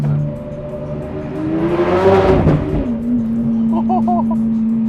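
Lamborghini Aventador with a V12 engine accelerating hard, a loud, rising roar that swells and peaks midway before settling into a steady drone, with faint voices alongside.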